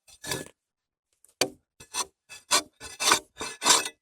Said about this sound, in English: let's see if that has made it easier to scrape any of this off